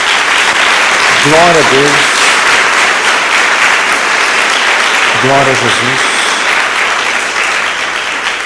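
Church congregation applauding during a service, loud sustained clapping throughout, with a voice twice calling out short praises over the applause.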